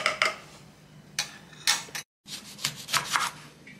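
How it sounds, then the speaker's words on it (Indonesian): A knife cuts through a lemon on a board in a kitchen while sambal belacan is being made, giving several sharp, close clicks and taps in short bursts with a brief silent gap. "Pakcik potong lemon ni nak ambil air dia"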